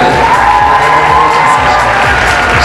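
A large live audience cheers and whoops loudly and continuously for a KVN comedy team at a university league semifinal, a dense roar of crowd noise with no breaks.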